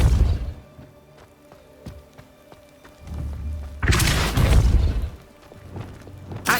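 A Depulso force spell striking in Hogwarts Legacy, a loud, broad whooshing blast with a low thud, landing midway through a game soundscape of faint ambient tones.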